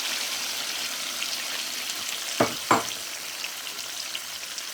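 Tomato paste is dropped into a sizzling pan of Chicken Afghani Karahi. A steady frying hiss is broken by two sharp splattering bursts close together near the middle.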